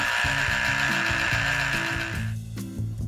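A cheap twelve-dollar manual juicer presses lemons, giving a steady, loud mechanical grinding and whirring with shifting low tones that drops off briefly near the end before resuming.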